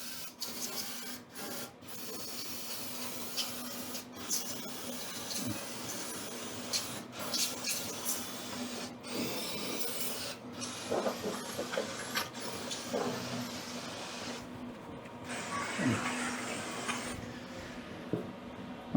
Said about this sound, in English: I still got a lot of scraping to do.